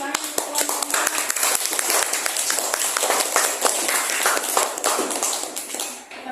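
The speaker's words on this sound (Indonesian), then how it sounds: "tepuk tangan untuk kelompok 4" A classroom of students applauds for group 4, dense steady clapping from many hands that carries through and tails off near the end, with a little chatter underneath.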